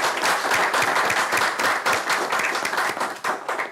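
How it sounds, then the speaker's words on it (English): An audience at an academic panel applauds steadily, a dense patter of many hands clapping at close range with no voices over it. "A round of applause for him"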